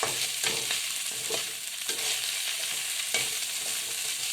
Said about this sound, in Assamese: এইখিনি ইয়াত দি ভালদৰে মাছ আৰু পিঁয়াজখিনি মিলি যোৱাকৈ ভাজিলেই হ'ব